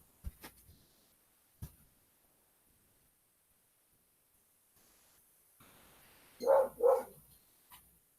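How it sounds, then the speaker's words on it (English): A dog barking outdoors in a yard, two quick barks near the end after long stretches of near silence with a few faint knocks, moderately loud and somewhat distant. "Let me go get this stinking dog. She's out there barking."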